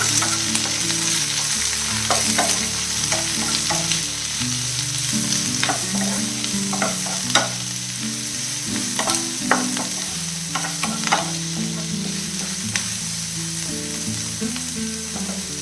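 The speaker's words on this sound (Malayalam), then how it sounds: "കറിവേപ്പില, പച്ചമുളക് ഇതെല്ലാം കൂടെ അങ്ങ് ഇട്ട് കൊടുക്കാം. നല്ലപോലെ വഴറ്റണം." Onion, curry leaves and green chillies are sautéed in a pan with a steady, close sizzle, punctuated by scattered clicks and scrapes of stirring. A low tonal hum sits underneath, and no one speaks.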